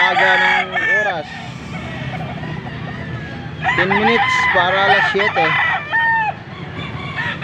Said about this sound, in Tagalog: Kita nyo naman yung mga manok, o. Ang dami ng mga manok dito.